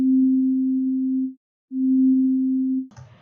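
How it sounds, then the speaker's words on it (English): A pure sine wave tone played in FL Studio holds steady and loud, breaks off briefly, then sounds again before a short burst of noise at the end. "I'm just going to play a simple sine wave."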